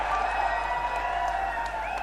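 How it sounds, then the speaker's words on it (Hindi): A large crowd at a student rally in Hisar, Haryana applauds in a dense, steady wash of clapping that holds evenly throughout, with a faint hum of crowd noise beneath. "भाई दुष्यंत सिंह चौटाला जी को एक बार जोरदार तालियां बजा करके"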